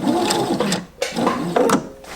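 Sewing machine stitching fabric lining at a short, tight stitch length, giving close whirring bursts broken by brief pauses, with light mechanical clicks between runs.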